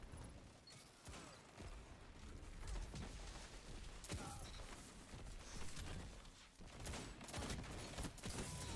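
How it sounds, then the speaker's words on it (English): Pulse rifle gunfire in the Destiny video game, rapid bursts of shots crackling over a dense, busy battle mix with other weapons and effects, steady and loud throughout. "It's a pulse rifle, but we got the range."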